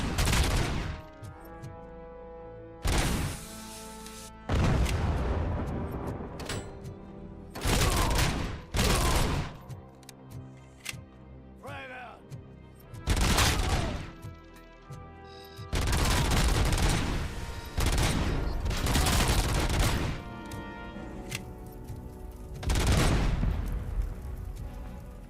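Gunfire from a heavy weapon in Robocop: Rogue City, with loud close bursts of varying length, some brief and some sustained for a couple of seconds, separated by short pauses, with booming impacts among them.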